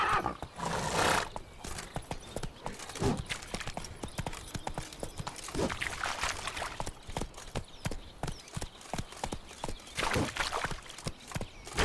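The horse Roach gallops in The Witcher 3, with rapid rhythmic hoofbeats on the ground and occasional snorts and whinnies over a fantasy game soundscape, at moderate volume.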